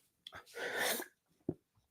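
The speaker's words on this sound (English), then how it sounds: "I had a little sneeze there." A quick intake of breath, then a single sharp, hissing sneeze, followed by a faint sniff in an otherwise quiet room.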